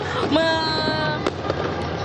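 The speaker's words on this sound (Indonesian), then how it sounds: "menebarkan kembang api yang ternyata mulai menghiasi ya" New Year's Eve fireworks in Indonesia pop and crack a few times against a busy background, with a voice and tonal sounds running over them.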